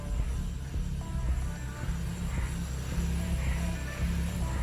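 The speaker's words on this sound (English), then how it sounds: "your engine is going to sound weird because your RPMs will be going up and down" A BMW N55 car engine idles steadily in a low, continuous rumble while running Valvetronic test cycles, its pitch drifting slightly up and down with no voices.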